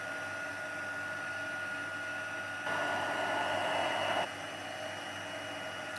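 A heat tool blows steadily nearby while drying ink before heat embossing on a papercraft card, giving a constant whooshing roar that briefly grows louder and brighter midway.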